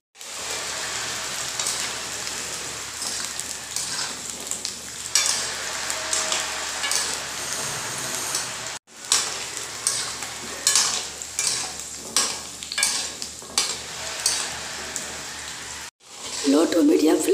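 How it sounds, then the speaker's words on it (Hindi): Indian gooseberries fry in oil over a low-medium gas flame, a continuous close hiss and crackle with rhythmic stirring scrapes, briefly cut off twice, and a voice faintly present at the end. "आंवला को तेल में डालने के बाद गैस के फ्लेम को लो टू मीडियम कर देंगे और इसे अच्छी तरीके से फ्राई कर"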